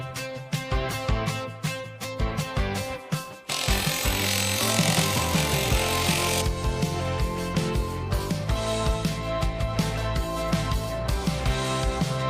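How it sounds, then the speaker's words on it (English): Loud, continuous hammering of a rotary hammer breaking up a floor, a rapid pounding roar that grows harsher and denser partway through. "I have this other hammer that also makes holes in the walls"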